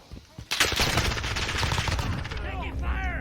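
Rapid automatic gunfire in a Modern Warfare team deathmatch, a dense loud burst of shots after a couple of brief opening pops, with game radio chatter and sound effects trailing off at the end.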